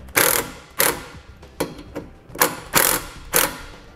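Ratchet tightening self-tapping screws into a base plate while wiring towed-vehicle lighting on a 2017 Jeep: a handful of sharp, close bursts of ratcheting clicks in an uneven rhythm, with no talking.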